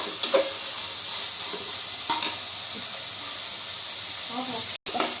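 Tomato fries in a pan with a steady, close hiss and sizzle, broken by occasional light stirring taps.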